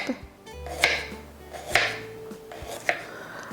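A knife slices a radish on a cutting board while a salad is being prepared: three or four crisp, separate cuts at an even pace, close by and fairly loud, with no talking.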